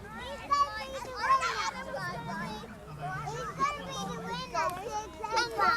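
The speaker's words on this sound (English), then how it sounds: "you could probably hear all the kids playing in the background while we were waiting." Children play at a playground during an Anzac Day gathering in Devonport, New Zealand, their high chattering voices and excited calls overlapping close by in a lively, continuous babble.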